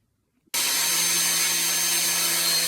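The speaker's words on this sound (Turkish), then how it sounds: "ben şimdi demir kesmek için hız ayarını 6'ya getiriyorum" An Einhell 125 mm, 1100 W angle grinder set to speed 6 bursts on after a brief quiet moment and runs as a loud, steady high-pitched whine with an even tone, heard close and alone.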